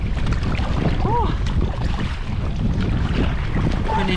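A kayak pushes against strong wind and waves in the Scottish Highlands, with loud, constant wind buffeting the microphone over rushing water and paddle splashes, plus brief breathy vocal sounds.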